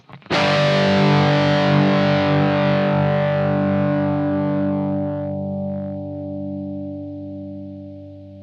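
A heavily distorted electric guitar chord through a Bluguitar Amp1 Mercury Edition with its gate active rings out loud and sustains for several seconds, slowly fading as it holds without being cut off.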